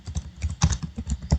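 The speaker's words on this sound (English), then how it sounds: "You can manually type in the full name" Fingers tap out a quick, irregular run of keystrokes on a computer keyboard in a spreadsheet session, close and crisp with no talking.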